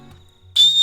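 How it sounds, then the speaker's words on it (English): A small whistle on a survival bracelet gives a short, loud, shrill blast that starts abruptly after a quiet moment and holds steady to the end. "Now it's got a whistle"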